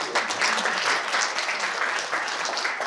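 Audience applause at a Korean commemoration ceremony for the 102nd anniversary of the Battle of Cheongsanri, as distinguished guests are introduced. Steady, dense clapping from a crowd runs throughout at even loudness, with no voices standing out.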